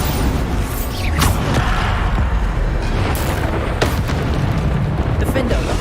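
The Bombarda spell explodes in Hogwarts Legacy with loud, dense booming blasts over a constant roar of game noise, several bursts and whooshes piling up across the clip.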